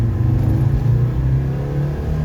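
A 2016 Land Rover Defender, converted from diesel to petrol, revs its engine on a test drive after a carbon cleaning, giving a loud, smooth, close-up hum that holds steady and swells slightly.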